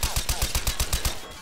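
Rapid automatic gunfire in Garry's Mod DarkRP, about a dozen evenly spaced loud shots in a quick burst that tapers off at the end.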